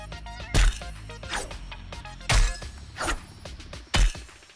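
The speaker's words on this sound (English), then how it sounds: "Definitely sounds like glass." Three sharp, bright glassy swishes from a glass dagger harvesting tool in Fortnite, evenly spaced about every second and a half, each a loud crisp burst with a faint ringing tail and softer clinks between.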